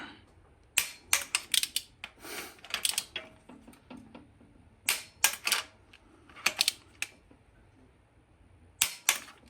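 A torque wrench clicks sharply in quick clusters while engine head bolts are tightened in stages, with short pauses between the bursts and a quiet background.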